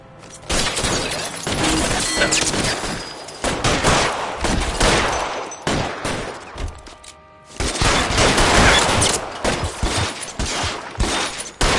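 A heavy shootout in the video game L.A. Noire, with dense, near, loud gunfire and rapid volleys alongside shattering impacts, one short lull midway, then renewed firing.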